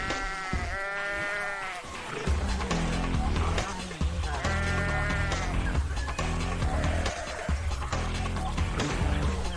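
Sheep bleat in several drawn-out calls over a steady rumbling background, while a narrator talks throughout.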